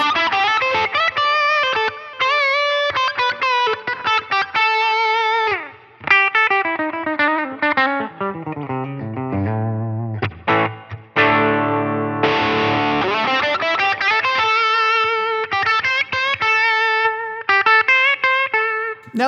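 Electric guitar lead through a Line 6 Helix running the Dumble-style Litigator amp model, pushed and driven, playing fast melodic runs and sustained bends with singing harmonics, loud and continuous with brief gaps between phrases.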